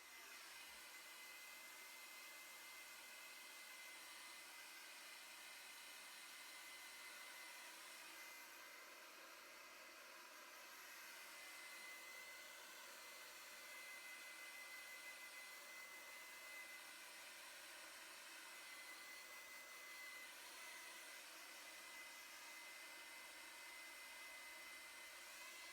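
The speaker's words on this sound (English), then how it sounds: "we're going to just blow dry it real quick" A hair dryer blows steadily on thick, straight hair in a salon. It is a continuous, even whooshing roar that fills the whole stretch without pause, close by and alone.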